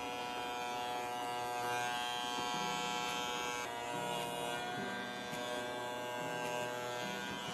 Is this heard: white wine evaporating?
no